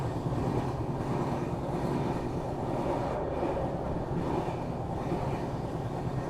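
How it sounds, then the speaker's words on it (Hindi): A train rolls past near a sugar mill between Shahjahanpur and Bareilly, heard from aboard the Poorabiya Express: a steady, loud broadband rumble and rattle of wheels and cars, constant throughout with no speech. "कोई सी तो ट्रेन आ रही है"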